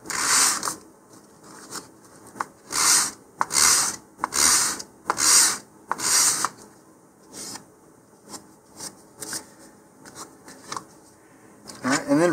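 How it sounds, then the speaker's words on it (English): Rhythmic rasping strokes of a sanding block on wood, a series of bursts in steady back-and-forth sequence, then quieter lighter rubbing toward the end. "I use my sanding block now and start working on the edges"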